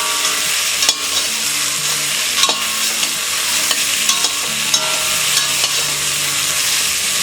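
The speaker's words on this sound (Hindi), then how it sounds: "हमने इसे मीडियम फ्लेम में फ्राई कर लिया है" Ingredients for potato pulao sizzle in a pan over a medium flame, a dense steady frying hiss punctuated by light stirring clicks, close and with no talk.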